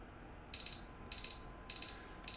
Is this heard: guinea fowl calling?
no